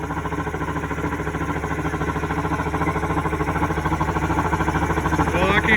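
A SeaArk 2072 boat's outboard engine idles close by with a steady, rhythmic pulsing throb that grows slightly louder over a few seconds.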